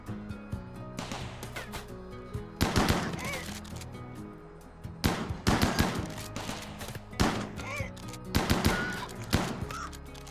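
Automated defense turrets in a colony-building video game fire in repeated bursts of rapid gunfire, with loud clusters of shots separated by short pauses against a steady game background.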